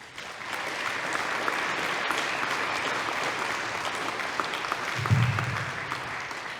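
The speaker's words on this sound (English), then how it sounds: "we would just like to give them a huge round of applause" A round of applause for student winners at a design competition awards ceremony rises quickly and then holds steady, a moderate, even crowd of clapping hands heard on its own without speech.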